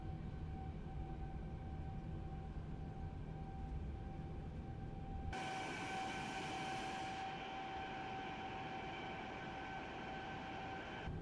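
Engines of a Boeing 787-9 in Microsoft Flight Simulator roar at full power, a steady loud drone with a high whine that suddenly thickens and broadens into a fuller rushing roar partway through.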